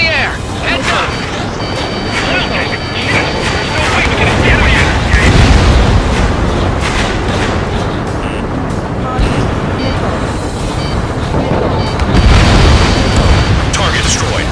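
Bombs and missiles exploding in Ace Combat 7 during an aerial strike on a pipeline: dense, continuous rumbling blasts and booms under jet and combat noise, with radio voices talking over the din.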